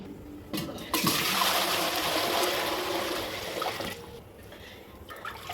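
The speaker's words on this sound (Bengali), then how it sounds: "আবার নলকূপের জলে একটু ধোবো।" Raw mangoes being washed with tube well water, a continuous splashing, rushing pour of water with sloshing, starting after a couple of clunks and tapering off toward the end.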